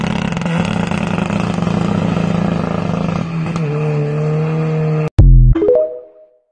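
A 1.9 litre, 131 hp car engine holds a high, steady rev with a buzzy drone, drops back a step, then blips sharply before settling down to idle and cutting out; loud and close.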